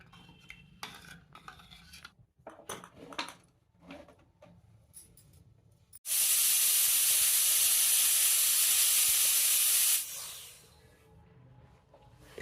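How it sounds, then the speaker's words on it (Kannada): A pressure cooker on the stove, cooking sambar, lets out one loud, sustained steam hiss lasting about four seconds before it cuts off, preceded and followed by quieter kitchen clatter of pots and utensils. "ಎರಡು ಸೀಟಿ ಆದ್ಮೇಲೆ ಕುಕ್ಕರ್ ಕುಕ್ಕರ ಬಿಡ್ರಿ"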